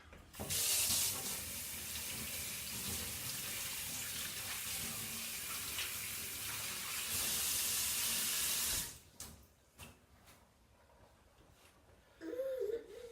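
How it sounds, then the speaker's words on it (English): Hands being washed under a running kitchen tap while making sloe wine, a steady splashing water stream for about nine seconds before it shuts off, followed by faint handling sounds and a short sound near the end. "Give my hands a good wash."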